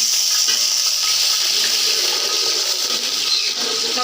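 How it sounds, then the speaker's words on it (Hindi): Onions sizzle loudly in hot ghee in a pan while cooking chicken pulao, a dense, steady frying hiss heard up close with no talking. "अब हम इसमें प्याज डालते हैं।"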